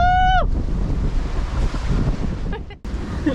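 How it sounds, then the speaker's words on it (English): Ocean waves and gusting wind roar steadily around a sailboat heading upwind in 28 knots in the Sea of Cortez, a continuous loud wash of surf and wind noise on the microphone, with a brief whistling tone at the start. "catching some 10 to 17 foot waves in the Sea of Cortez"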